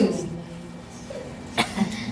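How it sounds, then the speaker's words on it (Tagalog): A single brief cough bursts out at about 1.6 seconds during a neuroanatomy lecture, with faint room noise before it and a smaller second sound just after. "Naririnig yung ubo ko."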